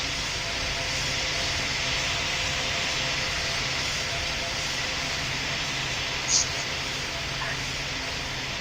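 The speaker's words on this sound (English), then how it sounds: "you're clear for takeoff" Airliner engines spooling up for takeoff in the video game Pilot Training Flight Simulator, a steady broad roar that holds level throughout, with a faint brief chirp near the end.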